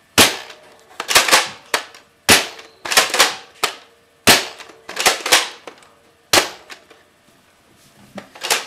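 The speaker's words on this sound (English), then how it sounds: "I'm also going to shoot this gun because, as the name suggests, it shoots really far." Toy foam-dart Nerf blaster firing repeatedly, a string of sharp close pops in irregular bursts with brief pauses between volleys, no talking.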